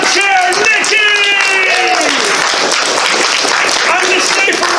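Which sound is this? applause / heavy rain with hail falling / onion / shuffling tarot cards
applause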